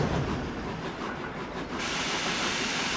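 A steam train engine in the video game Trainz 12 rumbles and hisses steadily with a loud, continuous chuff, the hiss brightening partway through as it picks up speed.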